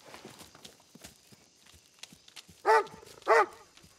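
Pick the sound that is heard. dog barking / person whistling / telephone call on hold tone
dog barking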